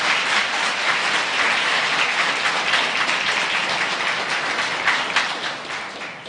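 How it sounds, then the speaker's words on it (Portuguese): A church congregation at a celebration service claps together in sustained, loud, dense applause that holds steady and tapers slightly at the end, with no speech over it. "Você pode aplaudir a Jesus?"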